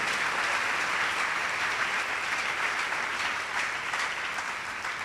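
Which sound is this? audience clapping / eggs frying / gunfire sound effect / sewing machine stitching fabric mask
audience clapping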